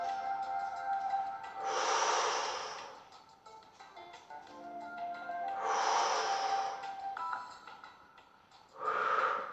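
Three slow, breathy exhalations during a Pilates exercise, each a soft hissing rush of air lasting a second or two, separated by quiet pauses with faint background hum.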